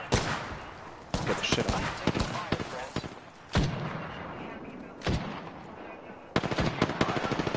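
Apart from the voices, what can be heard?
gunfire in the video game Apex Legends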